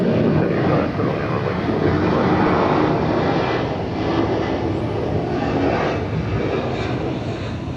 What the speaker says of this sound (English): We have this aircraft that just touched down here in front of us